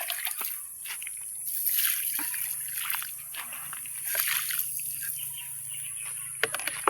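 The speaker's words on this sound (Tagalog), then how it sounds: "Gikan ra ni sa balay ang tubig." Water from a hose splashes and sloshes onto eggplant plants in a home garden. The spray runs as a continuous close, wet splatter with drips and trickles, and the flow swells and eases a few times.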